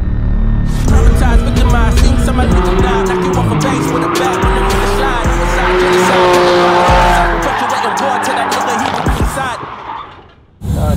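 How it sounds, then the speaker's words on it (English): BMW M6 drifting at an abandoned military base, its engine roaring loud and close with sustained tire squeal and skidding for about ten seconds before cutting off abruptly near the end. "He's gonna drift his M6."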